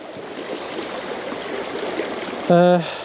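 Steady broadband rush of the River Doon flowing in Ayrshire, Scotland, continuous and fairly close for most of the stretch, ending with a brief loud tonal voice-like sound over the water.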